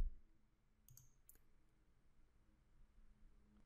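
A computer mouse clicks a couple of times in a quiet room, sharp brief taps close by with a low hum underneath.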